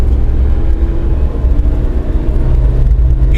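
A 2014 Suzuki Jimny 4x4 engine pushed hard, a loud, close, steady droning rumble with a strained whirring tone throughout, heard without talk.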